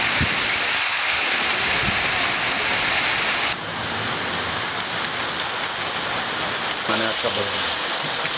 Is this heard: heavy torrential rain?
yes